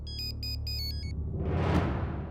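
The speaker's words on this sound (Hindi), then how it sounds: "तो वही सिंह साहब का फोन आ रहा है जिन्होंने सूरज भैया को प्रस्ताव दिया था" A mobile phone ringtone plays in a home, with three short repeating electronic trills, followed by a low rumbling swell of background music.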